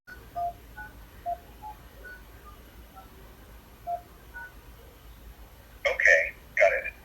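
Telephone keypad DTMF tones from entering an invoice number while paying a bill by phone: a few faint, evenly spaced beeps early on, then two louder, longer tones near the end, with quiet background throughout.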